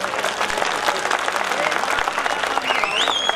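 Audience clapping at a chief minister's public event in Chamba, Himachal Pradesh, a steady patter of claps from a modest crowd with a voice faintly audible underneath and a brief electronic whine near the end.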